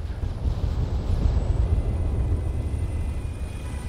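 Blackfoot helicopter in the video game Arma 3 Altis Life, heard as a steady, heavy low rumble that holds at even loudness throughout, with no other sound standing out above it.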